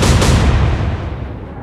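Naval gunfire in the Atlantic Fleet video game, a loud deep booming blast that rolls and fades out slowly with no talk over it.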